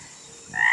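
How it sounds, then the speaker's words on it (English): A single frog croak rises abruptly near the end, loud and close, after a faint, quiet lead-in, used as a sound effect in a children's story. "frog"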